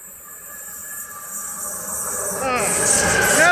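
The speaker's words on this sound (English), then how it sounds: "That's my favourite locomotive, the B106." A Belgian B106 locomotive passes at Schaerbeek, its hiss and rumble swelling steadily louder and closer with a sharp rise near the end, with faint voices in the background.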